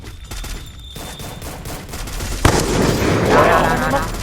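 Gunfire in the Free Fire battle-royale video game: a sharp shot near 2.5 s followed by sustained, dense rapid bursts that stay loud through the end, with steady background game noise before the firing starts.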